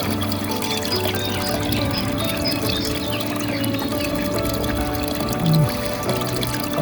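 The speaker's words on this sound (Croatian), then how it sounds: "Prirodna, planinska, izvorska voda." Cold natural mountain spring water pouring from a roadside fountain on Romanija, a continuous close splashing stream with steady trickling texture and one brief louder gurgle near the end.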